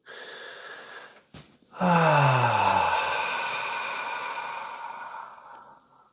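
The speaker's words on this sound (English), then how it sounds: "take 3 deep breaths and exhale slowly" Slow, deep breathing exercise: a soft breath at the start, a short pause, then a long, loud, drawn-out exhale that slowly fades over several seconds, close and alone.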